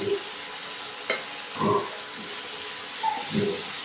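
Onions go into a hot pan for Bengali pispas and sizzle quietly in oil, with a few brief louder bursts and light clinks of a utensil against the pan.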